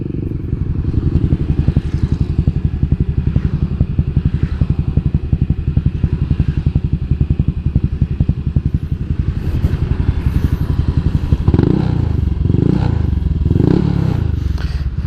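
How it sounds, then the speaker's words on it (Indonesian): A Honda Vario 150 scooter fitted with a BRT carbon exhaust runs close by, a loud rapid popping idle with a steady beat, then a few quick revs rising and falling near the end. "kalian mau dengar suara knalpot ya?"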